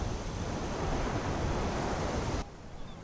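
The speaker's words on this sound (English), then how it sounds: "The water is much louder on this area of the map." Loud rushing water on a VRChat map, a dense continuous wash of surf-like noise that cuts abruptly to a quieter hiss near the end.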